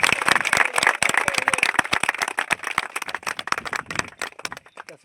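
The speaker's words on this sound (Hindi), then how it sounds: "ताली मारो" Scattered hand clapping from an audience at a village cricket match, greeting the chief guest, a district panchayat member; the claps are sharp, uneven and fairly close, thinning out toward the end.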